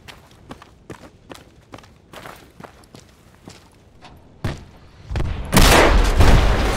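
Gunfire in the military shooter game Project Reality: a series of sharp single shots spaced about half a second apart, followed by heavier booming bursts and a loud sustained blast near the end.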